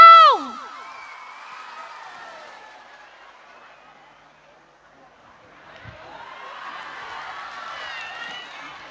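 Crowd at a temple in Chau Doc applauding and cheering for a singer, a loud burst up front that fades to quiet, then a building swell of clapping and shouts.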